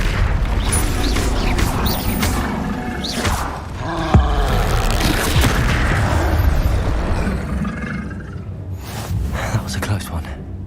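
Fire-spell blasts and combat effects in Hogwarts Legacy, a dense run of whooshing bursts and booms with a sharp crack near the middle, layered over game music and voices throughout.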